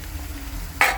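Hot ghee tempering for masoor dal bursts into a sudden loud sizzle near the end, rising sharply out of a low steady kitchen hum and holding briefly.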